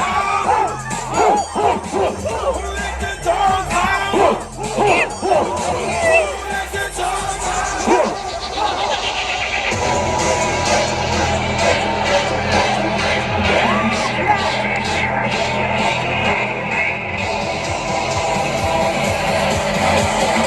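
Concert crowd at the Euphoria 2019 DJ night in Shillong, loud cheering, whoops and screams filling the space with a voice shouting over it, then a steadier roar as the music builds.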